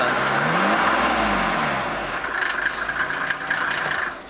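A Mercedes G-Class engine revs loudly and close by through a side exhaust pipe, the pitch sweeping up and down before settling into a rough, rumbling exhaust note.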